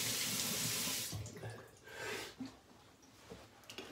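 Water runs steadily from a tap into a sink for face washing, a loud continuous splash that breaks into shifting gurgles and splatters as hands move through the stream.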